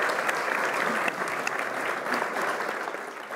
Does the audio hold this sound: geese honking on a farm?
no